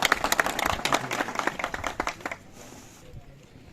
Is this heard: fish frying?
no